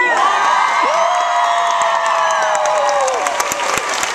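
A crowd at a convention panel cheers and shouts with high whoops and sustained voices, loud and close, and only faint scattered claps show through.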